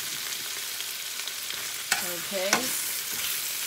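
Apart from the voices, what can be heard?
sautéing spinach in a pan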